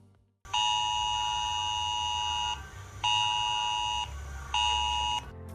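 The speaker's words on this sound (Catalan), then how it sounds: "El so de l'alerta al mòbil és fort i estrident, està predeterminat i no es pot configurar" Mobile phone civil protection emergency alert tone: a loud, strident steady beeping tone sounding in three long bursts of about two seconds each, separated by short gaps, alone with no talking.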